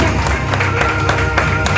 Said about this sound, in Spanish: Aplaude, aplaude, aplaude.